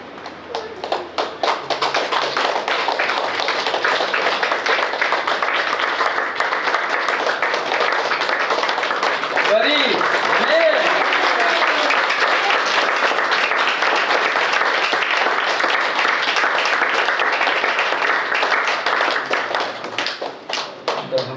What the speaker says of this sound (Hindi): सबको हम भाई जब गुलदस्ता पकड़ाते हैं सबको ताली बजाएंगे।